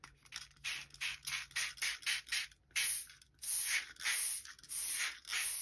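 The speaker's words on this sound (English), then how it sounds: "I'm just going to spray this page." A spray bottle pumped in repeated short hissing bursts, spraying calcium hydroxide solution onto a comic book page, about a dozen quick squirts at a steady rhythm, close by and fairly quiet.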